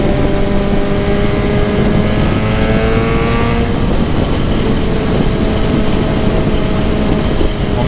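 A Kawasaki Z1000 motorcycle being ridden on the road: a loud, close, continuous engine drone whose pitch slides down midway, then levels into a steady roar mixed with rushing wind noise.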